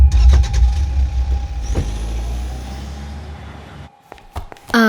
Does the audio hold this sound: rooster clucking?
no